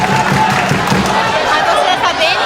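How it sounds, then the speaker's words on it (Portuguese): Lively football supporters at a Rio Branco Desportivo match, a dense roar of crowd chatter and cheering that fills the whole moment at close range. "A torcida está bem animada"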